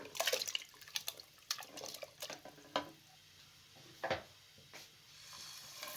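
Water is poured into a pressure cooker holding washed beef for a beef yakhni pulao, giving intermittent splashes and drips with a few soft clinks, close by and alone.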